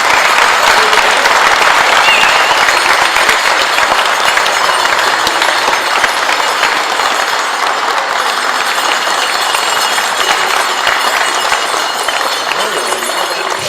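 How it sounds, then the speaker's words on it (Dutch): A crowd at a carnival youth-prince event breaks into loud, sustained applause, a dense wash of clapping that holds steady throughout, with cheering voices mixed in. "Goed, applaus."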